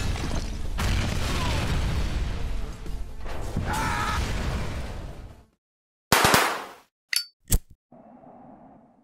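An explosion tears through a facility in the Rogue Warrior video game, a long roaring rumble that cuts off into silence, then sharp metallic crashes and clangs followed by a low lingering hum.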